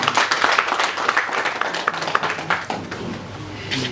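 An audience at a UK church gathering in 2015 gives a round of applause, heard as scattered, fairly close hand claps that rise and fall without a steady rhythm, then thin out toward the end.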